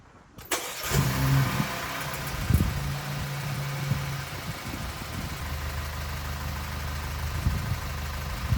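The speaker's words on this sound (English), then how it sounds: "Let's start it up, see if everything runs all right" A 2013 Audi A5 B8.5 engine, fresh from carbon cleaning with new plugs and coil packs, cranks and catches with a sharp start, then settles into a steady, smooth idle that holds close and clear throughout.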